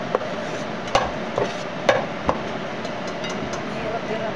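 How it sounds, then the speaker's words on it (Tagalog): A utensil stirs coconut milk in a large wok, with a few sharp clanks of metal against the pan rising over a steady simmering hiss and faint background murmur. "Makukuluan ko dito sa kawali yung anong gata."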